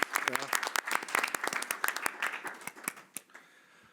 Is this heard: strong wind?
no